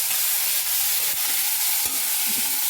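Spring onion greens for brinjal bharit sizzle steadily in a hot pan, with soft stirring scrapes close by and no talking.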